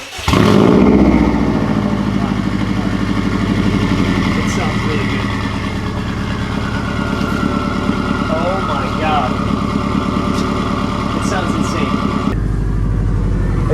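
Bugeye Subaru WRX with a Tomei exhaust starts up and settles into a loud, steady, burbling idle. It runs continuously under intermittent voices.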